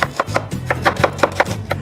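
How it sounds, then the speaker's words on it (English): Knife slicing about 900 grams of red onion very thinly on a board, a steady run of nine or ten crisp chopping taps close by, with no talking. "I have about 900 grams of red onion, and I'm going to slice them very thinly."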